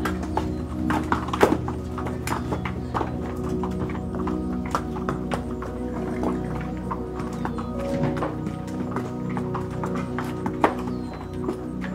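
Horse hooves clip-clop steadily on hard ground at the Matheran hill station, mixed with scattered thumps and a brief whinny, over a low background murmur.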